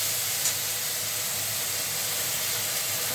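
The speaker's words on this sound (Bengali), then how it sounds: "এরপরে আমি এই তেলের মধ্যে এইগুলো এই বাটাটা দিয়ে দিলাম" Spice paste dropped into hot oil in a pan already holding popped mustard seeds and fried curry leaves sizzles with a loud, even, continuous hiss, with no talking over it.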